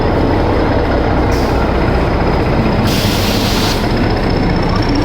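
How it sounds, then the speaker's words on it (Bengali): A WDS diesel locomotive pulls a train into platform 8 at Howrah station, a loud continuous rumble and rolling roar with a steady high whine running through it. "হাওড়ার WDS লোকোমোটিভ ট্রেন প্ল্যাটফর্মের দিকে টেনে নিয়ে আসছে"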